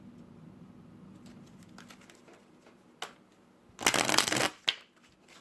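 Tarot cards are shuffled close by. Scattered soft card riffles and taps come first, then a dense, crisp burst of shuffling for about a second, followed by a couple of sharp card slaps.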